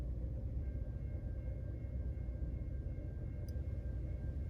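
A freight train rolls through a small Kentucky town, a steady loud low rumble and rattle of wagons holding throughout with a faint high whine above it, no voices.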